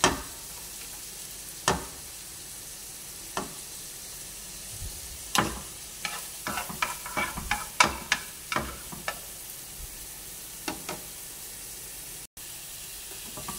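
Sliced onions in a pan with broccoli for a creamy chicken dish, a quiet steady sizzle broken by scattered clicks and clatters of stirring, with no talk.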